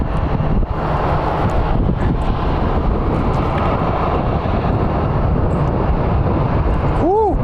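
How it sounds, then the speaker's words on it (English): Strong wind buffets the microphone outdoors at Phoenix Sky Harbor International Airport, a loud, steady roar that fills the whole stretch with rumbling gusts and no clear aircraft sound. "And this wind's not very good."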